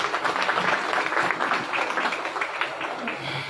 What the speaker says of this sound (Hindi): मैं उनका सम्मान और उनके लिए जोरदार ताली बजाए